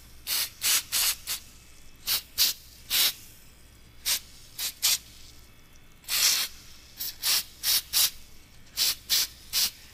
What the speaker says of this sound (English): I haven't sprayed this yet, but like I said, it's this Comp Cams valve train spray